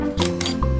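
A cartoon camera shutter clicks as a girl photographs a horse in a children's animated forest scene, two crisp snaps in quick succession over a steady musical background.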